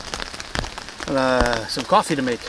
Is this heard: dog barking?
no